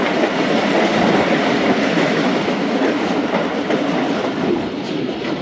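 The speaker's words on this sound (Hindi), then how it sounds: "लांडी रेलवे स्टेशन पर अराइवल हो रहा है ट्रेन का" Zakariya Express passenger train pulling into Landhi railway station, a loud, steady rumble of rolling wheels and carriages with faint rhythmic clatter, close by and continuous with no talking.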